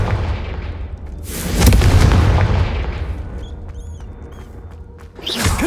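Fire spell blasts in the Hogwarts Legacy video game boom loudly, a heavy explosive burst swelling and rolling out, then another sharp blast at the end, with brief chiming game tones between.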